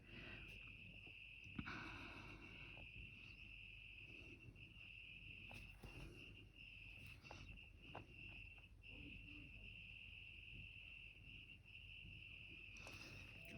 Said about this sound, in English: You can hear the crickets outside my window.